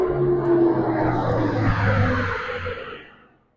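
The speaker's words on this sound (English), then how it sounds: "That was an Airbus A400, one of those funny, well, Hercules replacement" An Airbus A400 military transport plane flies low up a valley, its propeller engines a broad, steady drone with a tonal hum that swells and then fades away over a few seconds.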